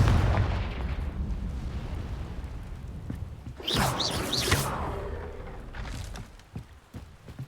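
A Confringo fire spell in Hogwarts Legacy is cast with a whoosh and then explodes in a loud, crackling burst that fades into rumbling debris and a softer late blast.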